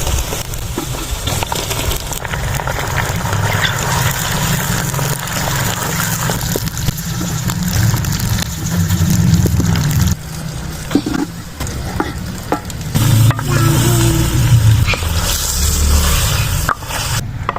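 Liver frying in ghee with browned onions, a loud, close, continuous sizzle and crackle with stirring scrapes and bursts of heavier spattering throughout.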